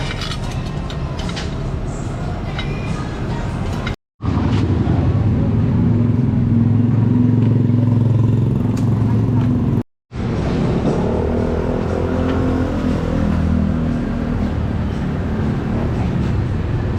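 A Yamaha Nmax 155 v2 scooter engine runs steadily during maintenance, a loud continuous drone broken by two brief cuts in the sound.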